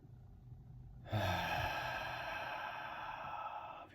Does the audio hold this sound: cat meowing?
no